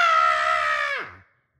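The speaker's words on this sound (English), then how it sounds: "She screamed louder." A child's scream from a Monsters, Inc. storybook: one loud, sustained high-pitched shriek lasting about a second, sliding down in pitch as it cuts off, heard alone.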